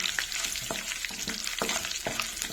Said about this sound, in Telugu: పెసరపప్పు కూడా వేగిపోతుందండి.